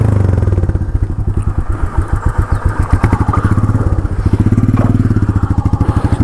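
Motorcycle riding along a forest road, its engine putting out a loud, close, rhythmic thumping exhaust with rattling over bumps, steady for the whole stretch.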